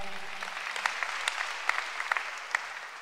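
Scattered hand claps from a church congregation during a Portuguese-language sermon, fairly faint and thin, with a few sharper claps standing out over a steady murmur of clapping.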